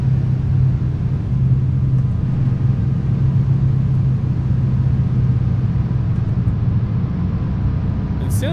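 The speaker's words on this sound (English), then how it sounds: "I think that's a car engine" A truck engine rumbles steadily close by, a low continuous drone with a faint hum, heard from inside the cab in traffic.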